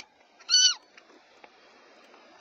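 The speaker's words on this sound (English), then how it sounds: "Cute little kitty." A cat gives a single short, clear meow that rises and then falls. It stands alone against near silence.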